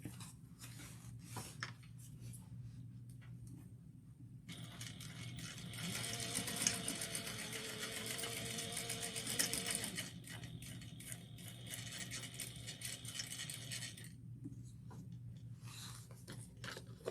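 Sewing machine stitching along the bottom of a fabric bag, a quiet rapid mechanical whir running for several seconds in the middle, with soft handling noises before and after.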